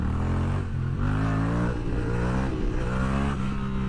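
A Honda CBR 250 motorcycle engine revving hard under throttle, a loud, close, steady drone with rising and falling pitch, heard alone.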